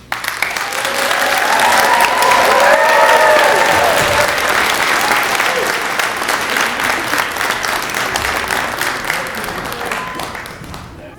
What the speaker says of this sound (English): help me with a giant round of applause for our kindergartens and grade 1 friends